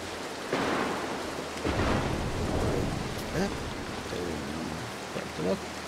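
Thunderstorm in the stealth game Mark of the Ninja, with steady heavy rain and rumbling thunder bursts swelling repeatedly throughout, under a continuous wash of storm noise.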